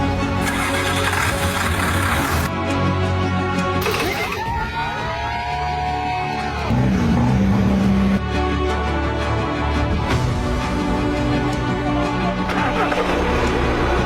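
A diesel engine running on fuel made from plastic waste cranks and catches, then settles into a loud, steady rumble with brief revs, close by, with little talk over it.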